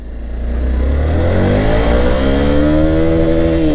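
Hero Xpulse 200 4V Pro motorcycle accelerating hard in first gear on a highway, engine note climbing steadily in pitch as revs build, loud and close throughout with no talk.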